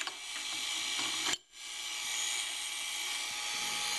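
A small Geneva wheel mechanism turned by a gear motor whirs and clicks steadily, cutting out for a moment partway through before resuming its even mechanical hum.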